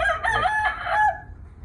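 A Boston Roundhead gamefowl rooster, a gray hatch, gives a single close, loud crow that rises and holds for about a second before trailing off, with no other sounds around it.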